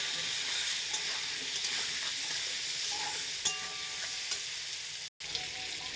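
Pointed gourd and potato sizzle steadily in hot oil with turmeric and salt, a continuous close crackle with occasional soft stirring knocks and a brief dropout near the end.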